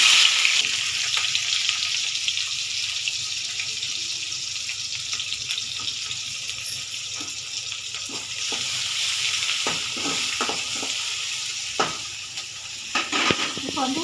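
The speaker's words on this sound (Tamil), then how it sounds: "இப்போ வந்து வெங்காயம் சேர்த்துக்கிறோம்." Onions frying in hot oil with fenugreek seeds in a home kitchen pan, a steady broadband sizzle throughout with scattered stirring clicks and scrapes toward the end, close and moderately loud, with no one talking.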